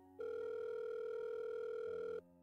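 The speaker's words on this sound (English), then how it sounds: "The dial tone seems to mock me as it endlessly rings." A single steady electronic ringing tone, as in a phone call to Yuri in the visual novel Doki Doki Literature Club, holds for about two seconds before cutting off, clear and alone.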